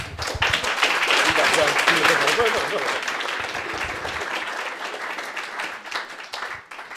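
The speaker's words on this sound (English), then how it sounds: "Massive round of applause." Dense, continuous applause from an audience at a careers fair after a talk, clapping staying strong throughout with voices murmuring underneath and only slowly easing toward the end.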